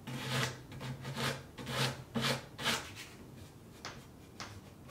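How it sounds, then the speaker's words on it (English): Sandpaper or an emery board rubbing over the edge of an unfinished wooden charcuterie board, a series of about six rhythmic rasping strokes up close, with fainter scrapes near the end and no talking. "So you do want to have a piece of sandpaper handy, or a nail file, emery board, anything that you may have"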